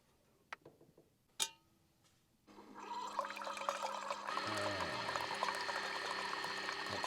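A new Keurig coffee machine brewing a cup inside an SUV during winter car camping, a couple of clicks followed by a steady hissing, gurgling pour of hot water that grows louder and continues at an even level.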